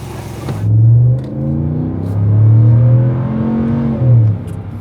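A RAM 1500 pickup's HEMI V8 engine rumbles deep and close while driving, rising and falling through several revving pulls with a throaty low tone.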